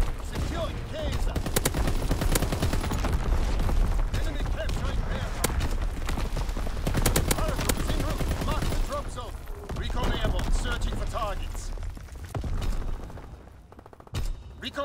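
Rapid bursts of artillery and gunfire in a video game battle, repeated heavy impacts in a dense, continuous barrage with radio-style voice lines over the top.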